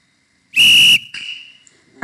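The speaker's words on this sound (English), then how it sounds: "when that workout timer hits 20, we should hear our referee whistle" A referee whistle sound effect inside a Scratch program: one loud, shrill blast lasting about half a second, followed by a fainter trailing tone and a burst of another sound at the very end.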